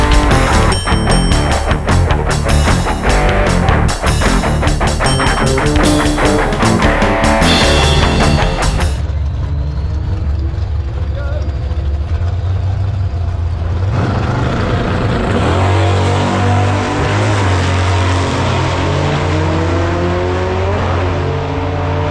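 A drag racing car at Santa Pod Raceway roars loud and close, a dense full-throttle blast for several seconds, then a lower, steady engine rumble carries on under the track ambience.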